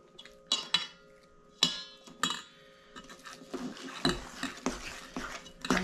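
Sweet potatoes and peanut butter are mixed by hand in a bowl, with scattered clinks and scrapes of a utensil against the dish in irregular bursts, close up, with no talk.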